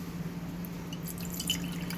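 Purified water trickles and drips into small jars indoors, a light, continuous splashing with brighter droplet sounds toward the end, over a steady low hum.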